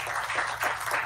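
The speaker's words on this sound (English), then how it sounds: "Let's give Rachel a round of applause." Applause at a school board meeting for Huron Valley Schools fills a short burst of steady clapping from a seated crowd, with no voices over it.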